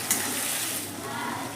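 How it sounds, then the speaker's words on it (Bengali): A spatula stirs spice masala in a pan and mashes tomatoes for a raw banana kofta curry, a low continuous sizzle and scraping heard up close without speech. "দেখুন খুন্তি দিয়ে দিয়ে কিন্তু আমি টমেটোগুলোকেও আস্তে আস্তে স্ম্যাশ করে দিচ্ছি।"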